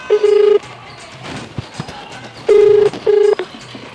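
Telephone keypad tones as a number is dialed: a few short bursts, then a gap, then two more clear close beeps, with some faint background noise between.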